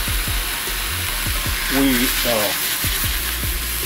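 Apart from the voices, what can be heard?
burger patty frying in a pan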